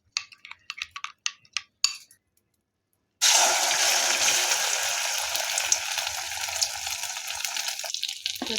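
An egg fries in a pan, a few light clinks first, then a steady bright hiss and sizzle that carries on alone to the end.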